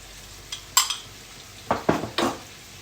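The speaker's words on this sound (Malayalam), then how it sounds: "ഇനി ഇതിലേക്ക് നമുക്ക് ഇഞ്ചി വെളുത്തുള്ളി പേസ്റ്റ് ഇട്ട് കൊടുക്കാം." Ginger and garlic paste stirred into sautéed onions in a pan for a Kerala-style fish biryani, giving a few quick scraping, clinking spoon strokes near the mic, with quiet gaps between them.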